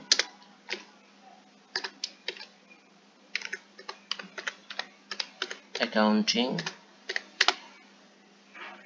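Typing on a computer keyboard, with crisp, close keystrokes in irregular bursts throughout; a short voice breaks in briefly near the middle.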